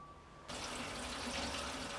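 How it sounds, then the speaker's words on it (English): Diesel fuel poured into the tank of a Sealey space heater starts abruptly after a quiet moment, a steady close liquid rush that keeps flowing to the end. "Pour fuel into the heater tank until the gauge reads full."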